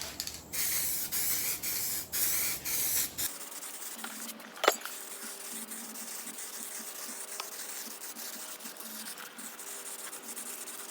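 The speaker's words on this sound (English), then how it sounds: "And now we use our black Crackle Paint." Black crackle paint sprayed from an aerosol can in long continuous hissing bursts, close and steady, with a few short pauses and light handling noise.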